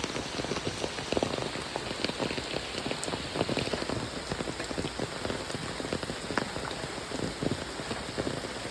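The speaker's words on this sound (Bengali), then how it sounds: "তো এখনো এই পর্যন্ত এখনো বন্ধ হয়নি, এই যে চলে বৃষ্টি।" Steady rain falls on surfaces outside a home near a fish pond, a dense continuous patter of close drops with scattered louder taps, no voices.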